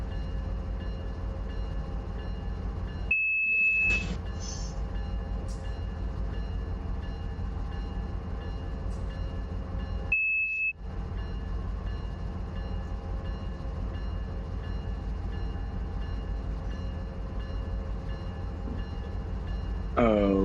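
A freight train sits with a steady low engine rumble as its air brakes release, and two short sharp hisses of air cut through the drone.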